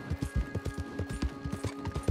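Horse hooves in Red Dead Online, a quick rhythmic clip-clop of galloping beats close by, with a faint steady musical tone held underneath.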